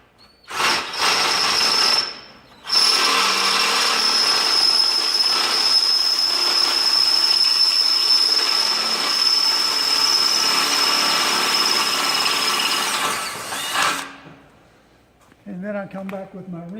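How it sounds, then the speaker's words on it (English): Long, steady whine of a power drill boring holes while installing a safety handrail on a deck, running near and loud for about eleven seconds with a short break early on, then stopping before a few spoken words at the end. "And you go down here and you drill the one"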